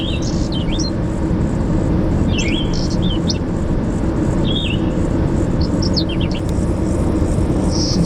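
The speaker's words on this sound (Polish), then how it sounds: "te ptaszki to nie na zewnątrz, to z mojego odtwarzacza" Bright bird chirps and whistled phrases played from a car stereo recur every second or so over a loud, constant road rumble from a moving car.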